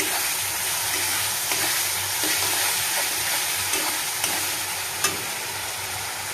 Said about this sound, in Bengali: এবার মশলাটা ভালো করে ভাজা হবে